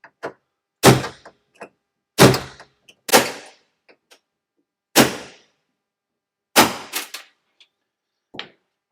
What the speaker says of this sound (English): So you got to punch these out.